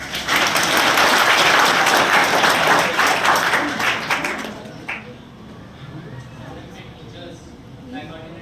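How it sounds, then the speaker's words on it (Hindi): Loud applause from a high school student audience at an assembly, dense clapping that fills the first four seconds and then fades into scattered claps and quiet murmuring. "जोरदार तालियों के साथ"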